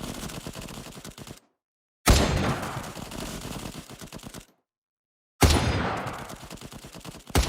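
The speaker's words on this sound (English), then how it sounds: "Aim and shoot massive guns in a shooting game jam-packed with missions full of enemies and entertainment." Guns fire in the mobile shooting game Major Mayhem 2 in three bursts of rapid, crackling shots, each fading away and separated by short complete silences.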